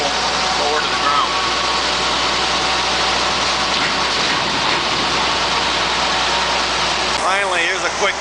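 Engine of a Bucyrus Erie 10B dragshovel running steadily as the boom lowers, a constant loud mechanical drone with someone talking over it throughout.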